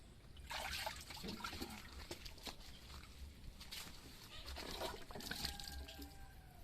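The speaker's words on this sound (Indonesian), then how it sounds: "nah seperti inilah, jadi airnya keluar" Water drains out of a fish pond with a steady trickling and splashing flow, fairly faint but continuous, swelling in spots with brighter gurgles against a low background rumble.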